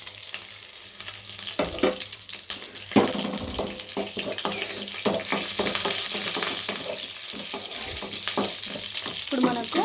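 Cumin, mustard seeds and urad dal sizzle in hot oil while raw coconut karam is being made, a close, steady hiss with dense popping crackles running through the whole stretch.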